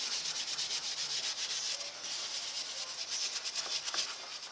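Surface rust being scrubbed off a 1999-2006 Silverado wheel hub, a continuous close abrasive rubbing with rapid back-and-forth strokes, fairly quiet and with no talking.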